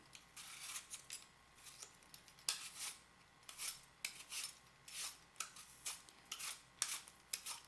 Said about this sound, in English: I'm going to just peel the apple